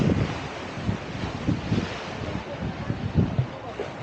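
Waves wash onto a beach at Cala Rajada, Majorca, in a steady broadband surf roar with soft rhythmic swells, heavy wind buffeting the microphone throughout.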